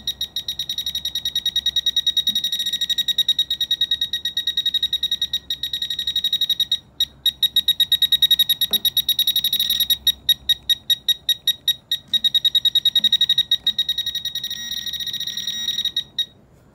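A handheld metal detector beeps in a fast, steady pulsing run while scanning for nails during a roof wind mitigation inspection, loud and close with brief gaps, no talking.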